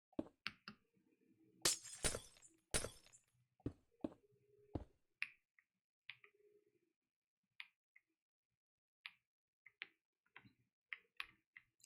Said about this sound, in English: Am I gonna break all this glass just to fix this one problem?